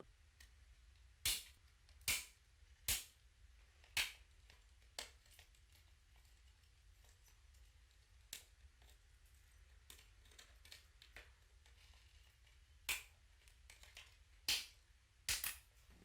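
Flathead screwdriver prying the plastic side covers off a Samsung D101/D111 toner cartridge, held by melted-end pins. Sharp plastic snaps and clicks come close and distinct, singly and in small clusters, over quiet gaps.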